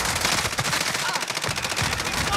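Rapid bursts of automatic gunfire crackle in a video game shootout, dense and loud throughout with a noisy, distorted texture.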